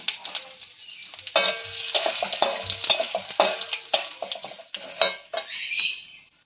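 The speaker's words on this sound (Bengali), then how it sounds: "এবার ফোড়নটাকে আমরা ভালো করে ভেজে নেব" A tempering of bay leaf, black cumin and a broken dried chilli fries in oil while a metal spoon repeatedly scrapes and clinks against the pan, the light sizzle rising and falling with the stirring.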